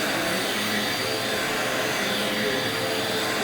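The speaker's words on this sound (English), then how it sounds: "I'll just vacuum this, and there's absolutely very, very minimal stuff that comes out." Vacuum cleaner running steadily on a carpet during a carpet-cleaning job, a loud, continuous whooshing drone at close range with no talk.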